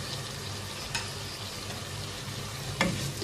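Ingredients for an aloo pulao are fried and stirred in a pot with a dissolved chicken stock cube, giving a constant sizzle with a couple of sharp spoon knocks against the pot. Close, with no voices.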